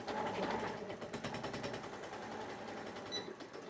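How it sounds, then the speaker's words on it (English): A sewing machine runs a quarter-inch side seam on a fabric bag with a reverse stitch at the start, its needle chattering in a fast even rhythm that carries on close and fairly quiet. "I'm using a 1/4 inch seam allowance for this, that I'm reverse stitching when I start"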